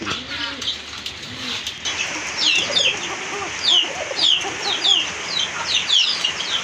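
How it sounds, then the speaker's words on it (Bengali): Pigeons kept with eggs and chicks coo in a loft, with repeated short rising calls over a low murmur of other birds and faint handling noises close by. "চিকন গলার কবুতর ডাকতেছে"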